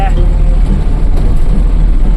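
A car drives on a smooth tarred road in Goa, making a loud, constant low engine and tyre rumble. A person talks over it.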